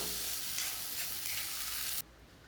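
Chopped cabbage being stirred in a hot pan, with a steady, close scraping and sizzling that runs for about two seconds and then cuts off, leaving quiet.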